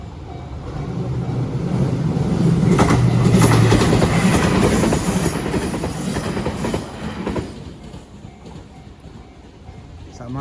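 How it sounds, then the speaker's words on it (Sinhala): A train passes by near a road crossing, its rumble and clickety-clack of wagons building loud for several seconds before fading away, with a voice talking briefly over it. "ඔන්න කෝච්චිය එනවා මේ පැත්තෙන් එන්නේ"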